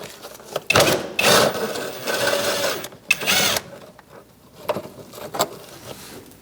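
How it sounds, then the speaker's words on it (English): A 10mm socket on a ratchet backing out a bumper bolt on a 2000-2006 Mini Cooper, giving bursts of rapid clicking ratchet strokes and metallic rattles, loud and close, with pauses between. "You're going to use a 10mm socket and remove this bolt."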